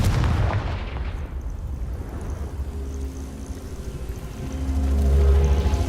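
The Confringo blasting spell fires in the video game Hogwarts Legacy: a sharp explosive boom opens, then a rumbling tail decays and swells again at the end, with no talk over it.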